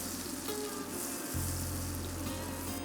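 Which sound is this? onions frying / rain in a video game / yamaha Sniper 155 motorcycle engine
onions frying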